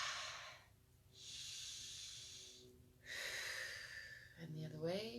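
Slow, deep breaths taken during a gentle exercise routine of shoulder circles: a long airy inhale, a pause, then another long breath out, close and soft, with a voice starting to speak at the end.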